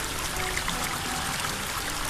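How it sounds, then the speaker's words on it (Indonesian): Stream water babbles near a waterfall at a camping spot, a steady close rushing and trickling wash that continues evenly and alone, with no voices. "Wih, airnya gemericik, indahnya"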